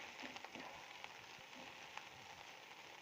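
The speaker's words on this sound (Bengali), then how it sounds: "এখন রসুনটা আমি ভাজবো।" Three teaspoons of half-ground garlic paste fry in a pan for a raw tamarind sour dish, giving a faint, steady crackling sizzle with small irregular pops, close by and without voices.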